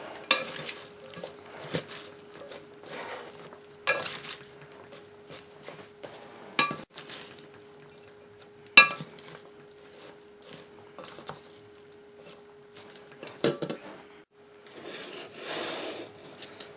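Chopped vegetables being tossed with oil and seasonings in a bowl, making a close series of soft scraping, rubbing strokes at an uneven rhythm, with no talking.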